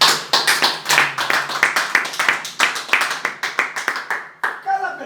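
A church congregation claps hands in a steady rhythmic beat during worship, loud and close, roughly twenty-five claps in quick succession with voices mixed in beneath.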